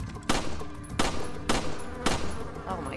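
Four sharp rifle shots from a shooting range in Resident Evil 4 crack out at roughly half-second to one-second intervals, each loud and close with a short ringing tail, over a low steady background hum.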